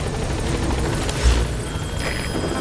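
Support helicopter in Metal Gear Solid 5: The Phantom Pain, a steady whirring rotor drone with a thumping beat, close and continuous throughout, with no talk.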